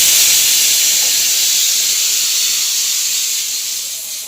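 Steam hisses steadily from a pot of boiling potatoes, a loud, close, broadband hiss that slowly fades toward the end, with no talking.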